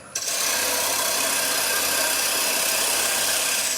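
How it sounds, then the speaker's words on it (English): A parting tool cutting into a pestle spinning on a wood lathe makes a loud, continuous close-up scraping rasp that holds steady from start to finish. "parting tool now, we'll go fairly deep, about 4 mil"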